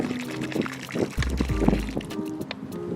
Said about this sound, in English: If I take this water, pour it into the river.